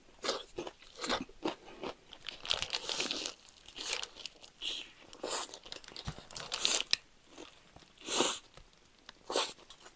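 Someone bites into and chews a tall Mom's Touch burger with a brown barbecue-like sauce, making close, crisp crunching and crinkling sounds in irregular bites and chews, with no talk.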